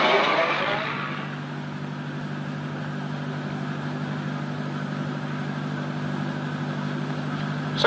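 A car engine from an old radio drama sound effect, humming steadily at a low pitch as the car drives up, a brief noisy swell at the start then a constant moderate drone.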